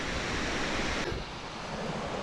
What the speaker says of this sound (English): A huge waterfall over here.